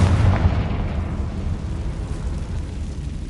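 A Confringo spell blast in the video game Hogwarts Legacy opens with a heavy low boom that quickly decays into a long rumbling, crackling tail, with no voices.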